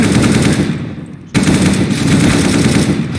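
Dense automatic gunfire in CS:GO rattles loud and close in rapid bursts, with a brief pause near the middle before the shooting starts again.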